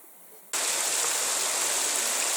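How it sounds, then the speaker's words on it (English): Running water of Red Burn, a hill stream crossing a walking path at a small ford near Ben Nevis, rushes in after a brief quiet start, a loud, steady, close broadband wash with no voices. "This is where the path crosses Red Burn, little ford there, and that lovely sound of running water is even closer."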